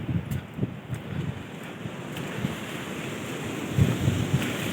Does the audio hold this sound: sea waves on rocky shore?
yes